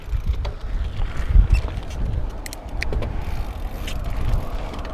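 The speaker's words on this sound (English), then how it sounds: "the wind has picked up quite a bit now" Gusty wind buffets a muffled microphone out on foggy Peak District moorland, rough low rumbles rising and falling throughout with a few faint clicks, no voices.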